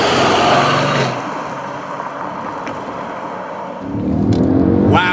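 A Mercedes ML 63 AMG with a 5.5-liter V8 accelerates hard, a loud roaring engine with rushing wind noise that dips briefly and then swells again near the end.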